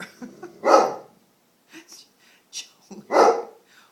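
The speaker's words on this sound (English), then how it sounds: "barking at people out the window, as you see, anyone who walks by" A dog barks in a few sharp bursts spaced across the moment, fairly close, with short quiet gaps between them, barking out a window at passers-by.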